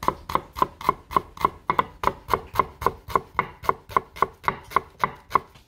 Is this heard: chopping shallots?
yes